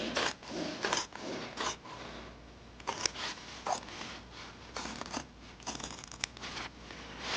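Scissors cutting through fabric for pillow cover panels: repeated close snips and crisp slicing strokes in an uneven rhythm, with light rustling of cloth between cuts.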